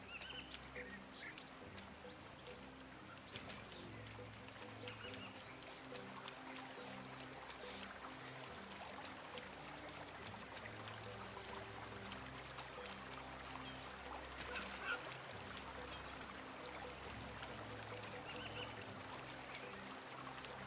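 River water flows steadily in the video game Sengoku Dynasty, a soft continuous wash with faint bird chirps over it, even and unbroken throughout.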